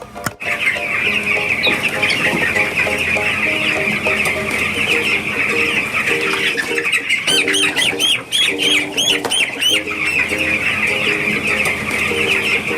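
Chickens cluck and chatter steadily throughout in a yard at Marangattupilly near Kottayam, Kerala, with several birds calling over one another in a busy, close-up ambience.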